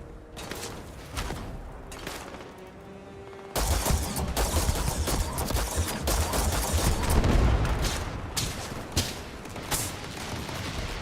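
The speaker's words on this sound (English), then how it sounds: "Who's that shooting at me?" Enemy gunfire in the space shooter Starfield, a sustained barrage of rapid shots and bursts that erupts suddenly after a quieter stretch and keeps rattling loudly and densely for several seconds, with no talk over it.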